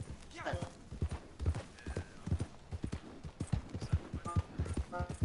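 Horse hooves clip-clop steadily in Red Dead, a rhythmic run of hoofbeats with a brief whinny, while voices talk over the top throughout.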